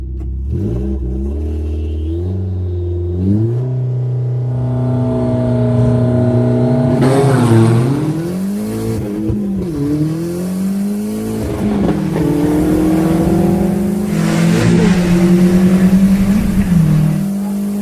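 A race car, an all-wheel-drive Vauxhall Nova, accelerating hard down a drag strip in a race beside a turbocharged Metro: a loud, close engine drones and climbs through the gears, dipping briefly at each shift before rising again.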